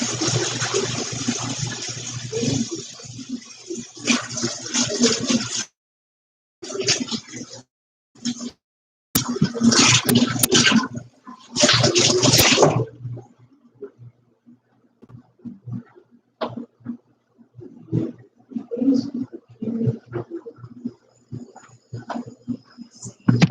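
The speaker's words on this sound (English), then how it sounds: "I'm gonna wash my hands." Hands washed under a running kitchen tap while baking, bursts of splashing water that start and stop several times in the first half, followed by quieter rustling and handling sounds.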